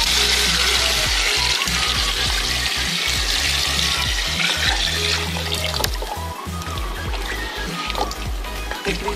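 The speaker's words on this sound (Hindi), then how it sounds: "अब हम इसमें पानी ऐड करेंगे।" Water pours steadily into a pot of mutton paya (goat trotters) cooking with yogurt, a continuous splashing, gushing stream close by with low bubbling and clatter underneath, loud and unbroken throughout.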